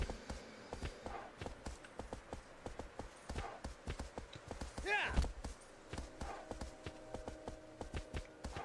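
Horse hooves clip-clop at a steady walking rhythm in Shadow of the Colossus, close and clear throughout, with a brief vocal sound in the middle and someone talking briefly over the hoofbeats.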